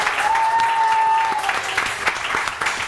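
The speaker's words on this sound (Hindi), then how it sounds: "तालियां बताएंगी।" Studio audience applause on a Pakistani morning talk show, a dense burst of clapping that fills the room, with a sustained tone under it early on and faint voices mixed in.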